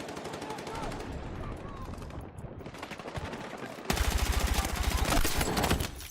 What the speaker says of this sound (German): Er kann durch den Boden schießen